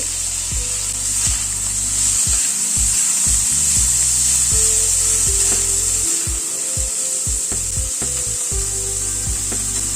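A spoon scrapes and rubs steadily against a cooking pan while frozen peas and raisins are stirred into a dal dish, with repeated dull knocks of the utensil on the pan and a constant sizzle.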